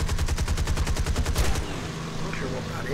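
Aircraft machine guns fire in a rapid, even burst of about a dozen loud shots during a flight combat game, then cut off, leaving a low engine drone.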